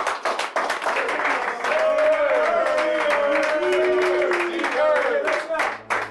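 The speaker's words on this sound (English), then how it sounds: "Let's give them a round of applause." A crowd claps steadily and energetically while voices cheer and call out over the applause.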